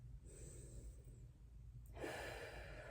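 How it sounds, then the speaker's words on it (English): A person breathes in and out audibly during a stretching exercise for reaching the toes, a long exhale followed by a louder, rushing breath, close and with no talking. "Breathing."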